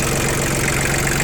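A Japanese Iseki TL2101 four-wheel-drive tractor idles close by, its engine giving a loud, steady rumble with a fast even pulse and no break.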